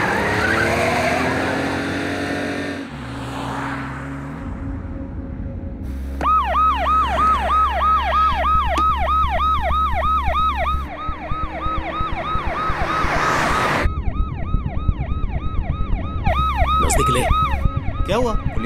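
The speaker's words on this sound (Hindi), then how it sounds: "पुलिस की गाड़ी अपने पीछे है क्या?" A loud wailing siren cycles rapidly up and down, close by, with engine noise and tyre screeches around it.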